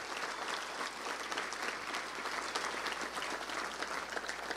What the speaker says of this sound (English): Let's give him a round of applause for doing that